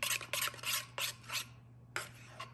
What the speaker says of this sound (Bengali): ভালো করে এখন আমি ক্রিম আর দইটাকে ভালো করে ফেটিয়ে নিচ্ছি